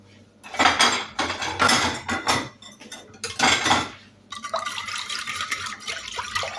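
Yeast dough with egg is stirred in a bowl, a utensil clinking and scraping against the bowl in uneven bursts, followed by a wetter, softer mixing sound, close and with no talking.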